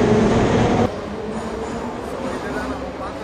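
Metro train in a Soviet-era Russian metro station, a loud rumbling roar that drops sharply after the first second into a steadier hum, with someone talking over it.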